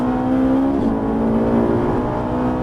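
A Ferrari F458 engine pulling hard on the Haut Saintonge race circuit, a loud continuous rising drone heard from on board with a brief shift in pitch partway through, no talk.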